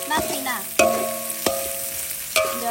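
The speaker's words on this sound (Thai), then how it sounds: "เราผัดให้เข้ากัน" Ingredients being stir-fried in a pan, with a few sharp scraping clinks of the utensil against the metal over a soft, steady sizzle, close and clear with no voices.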